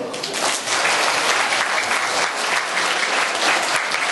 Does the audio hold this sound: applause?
yes